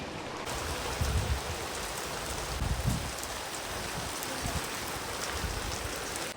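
Heavy, steady rain pours down in a village, a dense even hiss of drops hitting surfaces with a few louder splashing bursts, continuous and fairly close, with no one talking.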